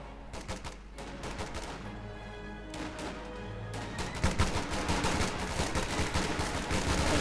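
Rapid machine-gun bursts from an MG42 in Company of Heroes 2 rattle alongside other gunfire and explosions in a dense battle mix, with continuous shooting that grows louder and denser toward the end.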